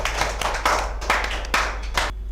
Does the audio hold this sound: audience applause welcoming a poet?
yes